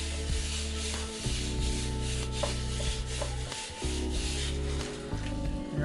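Hands rub dried sage seasoning over a raw leg of lamb, a steady close dry scratching and brushing with a low continuous hum underneath, no talking.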